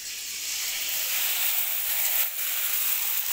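Kurdai papad frying in hot oil, a steady bright hiss and sizzle close by that holds evenly throughout with a brief dip near the end, no voices over it.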